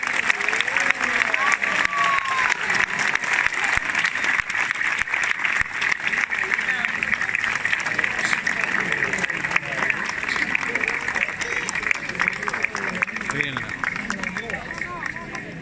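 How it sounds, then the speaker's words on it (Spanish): A large outdoor crowd at a flag oath ceremony in Murcia applauds steadily and loudly for the whole stretch, a dense continuous clapping with some crowd noise mixed in. "Un fuerte aplauso, por favor."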